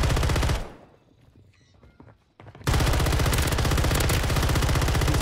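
Automatic gunfire in Warzone, dense rapid bursts at close range that cut out into near quiet for over a second, then resume just as loud and sustained.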